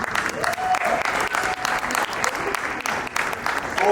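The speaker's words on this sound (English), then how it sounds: "please a round of applause to our judges." A crowd claps loudly and steadily for the judges at a startup pitch competition, a dense, sustained round of applause lasting several seconds without a break.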